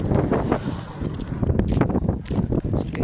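Strong wind roars and buffets the microphone continuously, a dense, rumbling rush with no clear voices.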